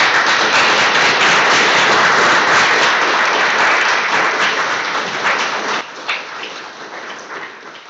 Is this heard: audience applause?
yes